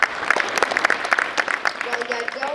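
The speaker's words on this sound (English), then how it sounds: "you can clap for her" A school academic awards ceremony audience claps for student award recipients, a short burst of mixed-density clapping with voices mingling in.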